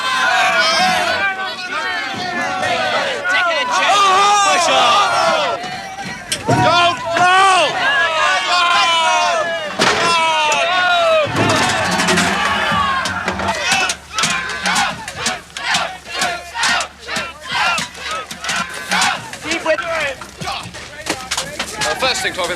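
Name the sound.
angry mob shouting during riot control exercise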